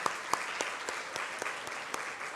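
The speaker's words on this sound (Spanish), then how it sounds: "¿Le podemos dar un aplauso al Señor?" A church congregation claps together in praise after a prayer, a fairly faint but steady patter of many hands with a few sharper claps standing out.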